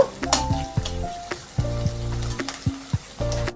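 Finely chopped onions frying in hot oil for a jackfruit kalia, with a steady close sizzle broken by repeated clinks and scrapes of a stirring spoon against the pan.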